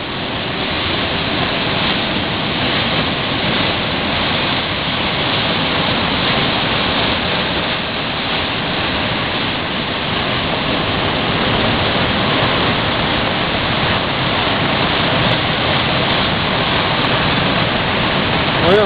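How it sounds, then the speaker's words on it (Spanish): The flooded Asabón river at Villalangua rushes past below a bridge in a loud, unbroken roar of churning water that holds steady for nearly twenty seconds. "Se aprecia los golpes de las piedras que deben de ir por debajo del río y de los troncos."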